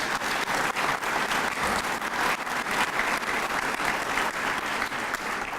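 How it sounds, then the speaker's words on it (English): Sustained applause from a large crowd at a homecoming luncheon for Northwestern Wildcats football coach Pat Fitzgerald, steady and fairly loud throughout, a dense wash of many hands clapping with no talk. "So how about a round of applause for Pat?"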